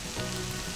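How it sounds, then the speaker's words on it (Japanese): Garlic, bacon and rice stir-fried together on a hot plate give a steady, close crackling sizzle that runs unbroken throughout, with no talking. "ベーコン、ニンニク、ご飯は全部一緒に入れて炒めちゃって大丈夫です"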